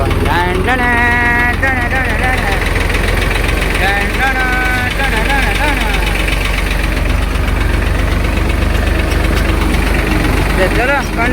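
A tractor engine rumbles steadily at idle throughout as the tractor stands in water on a farm, loud and close, with voices and other sounds layered over the constant chugging.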